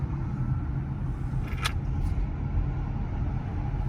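Electric Peugeot e-2008 cruising on a motorway, a steady low road rumble and tyre roar heard from inside the cabin, with a brief faint higher whoosh midway.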